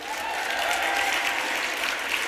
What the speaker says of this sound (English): By applause. Let me hear you.